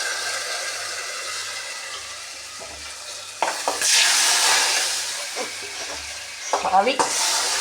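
Roasted coconut, shallot and chilli tempering sizzles and hisses as it is poured into a Kerala elephant yam curry, with steady frying noise, stirring clatter and a louder burst of sizzle midway.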